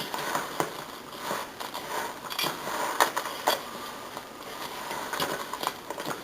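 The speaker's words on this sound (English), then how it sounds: "So now we're just going to continue to lightly give this a toss." Homemade granola coated in oil is lightly tossed and folded in a bowl, giving soft, close, irregular scraping and clinking with occasional sharper ticks against the bowl.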